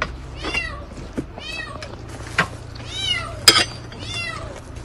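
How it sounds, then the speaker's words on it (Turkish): A kitten stranded atop an electricity pole meows repeatedly, four or five high, plaintive cries in a loose rhythm, fairly close, over a low background hum with a few faint clicks. "Elektrik direğinin tepesinde kedi sesi duyan köy sakinlerinden Cemal Örnek,"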